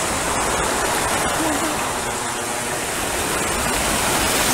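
Niagara Falls waterfall roaring, a loud, continuous broadband rush that stays steady throughout, with faint voices underneath.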